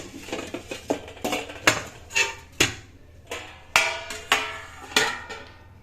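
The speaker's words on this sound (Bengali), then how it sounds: "দাঁড়াও নামাবো থালাটা" A metal plate being lifted down and set out, with a run of sharp metallic clinks and clatters at irregular intervals, close and fairly loud with no talking.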